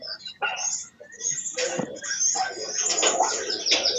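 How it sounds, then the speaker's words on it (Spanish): Birds chirp and call in scattered bursts against a quiet outdoor background, fairly close, with no talking. "Yo escucho puros pájaros."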